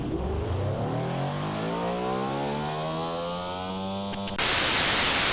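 A small V16 engine in a car-building game revs steadily upward through a long, rising, buzzy harmonic sweep, then cuts abruptly to a loud hiss.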